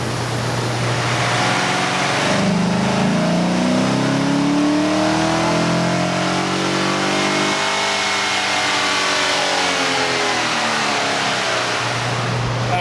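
A car engine revs hard through a dyno pull with the exhaust cutout plate removed, a loud, steady roar that climbs in pitch over several seconds and then winds back down, with no talking.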